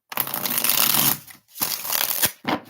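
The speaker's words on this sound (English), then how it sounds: "2 more shuffles for JoJo." Cards shuffled in three quick riffling bursts, close and fairly loud, separated by short pauses, during a tarot reading session.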